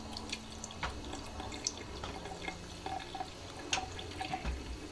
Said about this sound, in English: see how that just runs right through? That's when you know it's draining properly